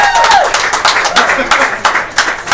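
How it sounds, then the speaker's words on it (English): Pub audience at a political meet-up giving a round of applause for a candidate, loud close clapping with cheers and voices mixed in, dense at first then thinning into scattered claps. "Everybody give her a big round of applause."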